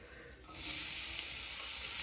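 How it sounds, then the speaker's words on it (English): Onions for bacon marmalade hit hot oil and a loud, steady sizzle rises and holds, close up with no talking. "Listen to that sizzle."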